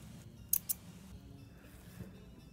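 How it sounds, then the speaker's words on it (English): Nippers snip through Aari embroidery needles with two sharp, brief clicks in close succession, close by and crisp against a quiet background. "you can use these nippers."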